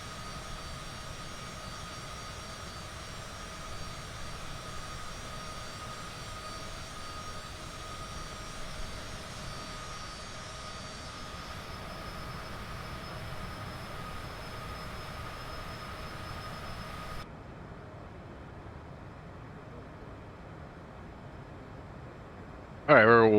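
A steady, even jet engine drone from a Cessna Citation CJ4 in a flight simulator game hums continuously for a long stretch and then drops abruptly to a quieter hum, with a voice coming in at the end.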